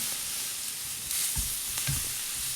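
Garlic sizzles and pops in a hot pan, a steady close frying hiss with a few soft thumps and clinks from stirring, no voices.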